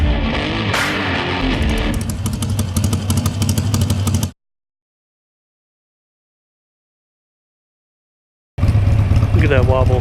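A loud Harley-Davidson motorcycle engine at Bike Week in Daytona Beach runs with a lumpy, uneven, wobbling idle, cuts to silence partway through, then returns just as loud.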